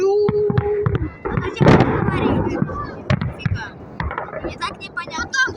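Victory Day fireworks salute over Sparrow Hills in Moscow on 9 May 2023, sharp bangs and crackling bursts echoing at a distance, with people talking nearby over the booms.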